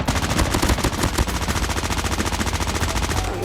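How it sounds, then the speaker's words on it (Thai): Rapid automatic gunfire from an SMG in a Call of Duty Mobile battle royale match, a loud, continuous stream of dense, evenly spaced shots lasting several seconds. "ผมได้ยินเสียงปืนจากตรงเนี้ยตั้งแต่เมื่อเช้าแล้วนะ มันยังไม่เลิกยิงเลยครับ"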